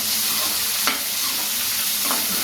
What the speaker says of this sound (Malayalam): സവാള നല്ലപോലെ വഴറ്റിയെടുക്കണം.